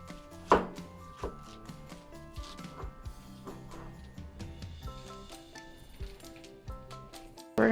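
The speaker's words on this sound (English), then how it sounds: "we gotta chop up this red pepper next" A knife chops a red pepper on a cutting board, close, quiet taps in an irregular quick rhythm with a couple of sharper knocks.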